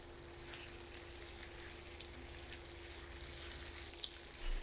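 Thinly sliced potatoes fry in a pan with red and green capsicum, giving a steady, soft, even sizzle that carries on without a break at low-to-moderate loudness.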